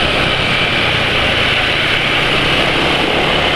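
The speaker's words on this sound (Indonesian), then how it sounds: "emang ya suara mesin itu jadi lebih halus," A motorcycle engine running on Kendall GT1 oil idles steadily and smoothly at close range, a low constant rumble with no revving and no voices.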